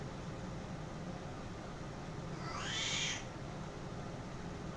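A cat gives a single drawn-out, plaintive meow indoors, rising then falling, fairly faint against a steady background hiss from the room.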